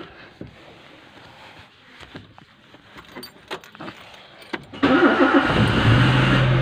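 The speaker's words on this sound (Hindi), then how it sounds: "अब हम करते हैं जी गाड़ी को स्टार्ट।" Keys jingle and handling noises come first, then a car engine cranks and catches on a cold day, leaping to a loud, steady running roar close by.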